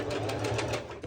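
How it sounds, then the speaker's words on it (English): A sewing machine running a straight stitch on swimsuit fabric, a close, steady mechanical whir for about a second as a voice talks over it. "lowering my foot, and it has to be just a straight stitch"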